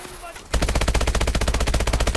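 Rapid automatic gunfire from Call of Duty: Advanced Warfare, a loud sustained burst of evenly spaced shots that starts abruptly after a brief quiet moment and runs to the end.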